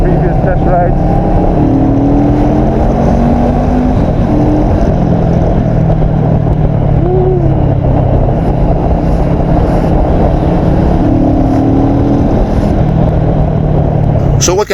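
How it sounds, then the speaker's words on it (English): A Bristol Bobber 650 motorcycle rides along a city road, its engine a constant low droning rumble with slight pitch shifts as speed changes, heard up close under a rider talking throughout. "This bike comes with ABS and it has great feedback, especially during sudden stops."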